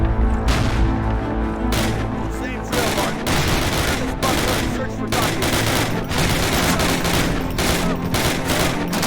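Machine gun fire in the Call of Duty World War II shooter, loud sustained bursts of rapid automatic shots with heavy booms, continuing nearly without pause across the stretch.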